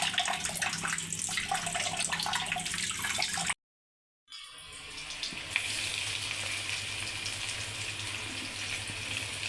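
Onion and garlic sizzle in hot oil in a pan for mustard greens, a steady close crackle that drops out briefly near the middle, then returns just as strong.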